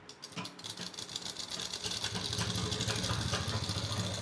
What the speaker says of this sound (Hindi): इसको भी हम डबल सिलाई करेंगे इसके ऊपर भी।